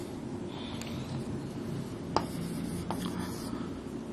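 Chalk or marker writes on a board during a physics lecture, with faint scratchy strokes and a sharp tap, quiet under a low room hum, with no talking.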